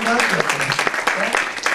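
A church congregation applauds during a sermon, steady broadband clapping heard under a loud voice that keeps talking or calling out over it for a couple of seconds.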